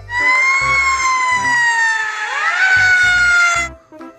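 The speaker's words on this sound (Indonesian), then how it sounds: "Wow, mobil tangga pemadam kebakaran." A loud electronic siren wails steadily from a toy fire ladder truck, its pitch sliding between tones, with light plastic clatter before and after.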